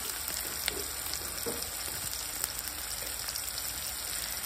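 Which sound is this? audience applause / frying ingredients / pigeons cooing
frying ingredients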